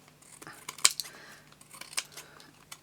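Scissors snip through a long strip of card background from a vintage card kit, with a few crisp close cuts and light paper rustling between them.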